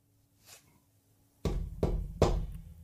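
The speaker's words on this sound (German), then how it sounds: "Torben klopft einmal an." Knocking on a small door as a bedtime audio story effect: three firm, close knocks in a steady rhythm, preceded by a faint rustle, with no voices.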